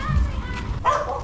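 A dog barks nearby, a couple of short woofs close to the listener, with a person's voice briefly mixed in.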